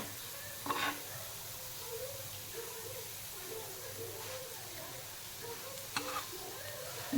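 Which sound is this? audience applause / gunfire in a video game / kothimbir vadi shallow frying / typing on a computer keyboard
kothimbir vadi shallow frying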